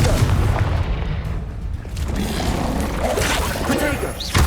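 Blasting spell explosions from Confringo in Hogwarts Legacy, loud booming impacts amid continuous combat noise, with a voice speaking over the din.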